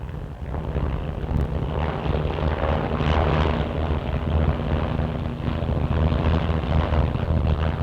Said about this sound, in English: The officers from the Central Flying School are now looping in formation.